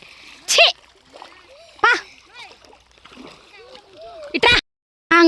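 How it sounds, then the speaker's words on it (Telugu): A child splashes and slips around in water outdoors, sending sharp bursts of splashing several times between excited chatter and cries from the child. "జారిపోతున్నా నేను నీళ్ళల్లో జారి పడిపోతున్నా"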